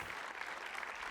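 A studio audience claps steadily with dense, sustained applause that fills the whole stretch at moderate loudness, closing a televised Estonian talk show episode.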